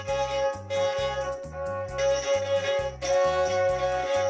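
A Karpathos lira bowed steadily in a lively rhythm, with strong sustained harmonic tones over a pulsing low drone, played alone and fairly close.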